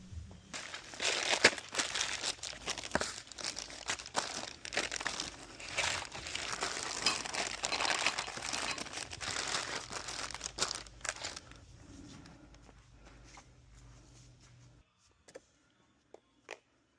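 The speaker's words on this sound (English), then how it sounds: "Start by opening all the boxes from the back." Cardboard shipping boxes for a truck bed cap being opened up close, with dense crinkling, tearing and crunching for about twelve seconds before fading to quiet handling and a few faint knocks.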